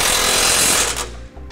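A loud power tool drives and tightens bolts on a Draw-Tite Max-Frame trailer hitch receiver, a dense continuous rattling whir for about a second before it winds down.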